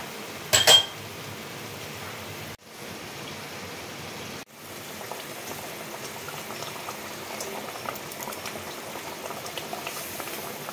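Water mixed with ground poppy seed paste goes into a rohu fish curry cooking in a pan. A short splash is followed by a steady, close bubbling and sizzling that lasts around ten seconds, with no talking.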